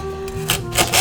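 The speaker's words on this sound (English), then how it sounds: "just chopping everything into little pieces" A knife chops vegetables and fruit, including watermelon, into small pieces for homemade juice, giving close, irregular scraping and cutting sounds on a board with a few sharper strikes and no talking.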